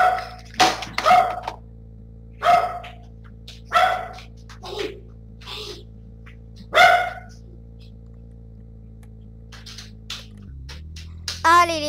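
Neighbours' dogs bark in repeated short bursts spread across the scene, moderately close, over a steady low hum, with a few sharp yips and a brief whimper near the end.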